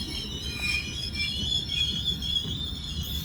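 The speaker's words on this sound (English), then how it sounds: "The General Electric locomotive. Loaded rock train." A heavily loaded rock train hauled by a General Electric locomotive rolls past close by, its wheels squealing in high shrill tones over a constant low rumble of cars, with no one speaking.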